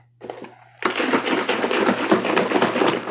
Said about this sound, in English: I'm gonna pour a little